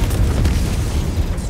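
Airstrike explosion in the video game Helldivers 2: a heavy, booming blast with a deep rumbling tail filling the whole moment, loud and close, with no talk over it.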